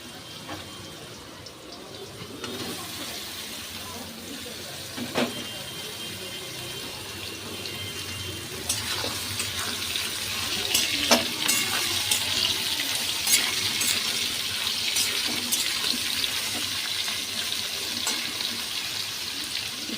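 Ridge gourd goes into a hot pan and fries. A steady, close sizzle grows louder partway through, with occasional light clatters of a utensil and no speech.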